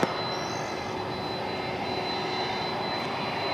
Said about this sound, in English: But this is going to be Flight 2090, American Airlines 737-800, coming in from the Big Easy of New Orleans.